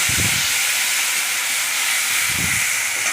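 Ginger and green chilli paste fries in hot oil with a loud, steady sizzling hiss that runs throughout, with a couple of low bubbling pops near the start and end.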